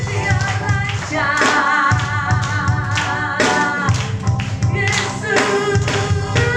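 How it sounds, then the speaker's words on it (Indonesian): A church congregation claps for Jesus along with loud worship music and singing, the hand claps mixed in as a rhythmic tapping beneath the band. "Tepuk tangan bagi Tuhan Yesus."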